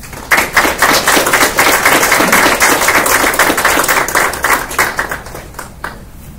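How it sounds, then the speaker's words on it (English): A crowd applauds awardees at a military field artillery battalion ceremony with dense, steady clapping that starts abruptly, holds for several seconds, then thins out and fades. "Let's give the awardees a round of applause."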